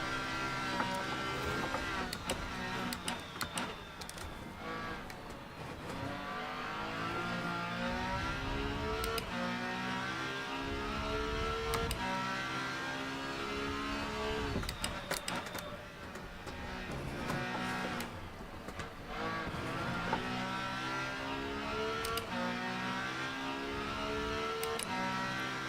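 A race car engine in the sim racing game rFactor 2 drones and revs through club racing at Super Sandown, its pitch rising and falling steadily through gear changes, continuous and moderately loud without talk.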